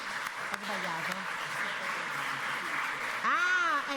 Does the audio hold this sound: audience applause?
yes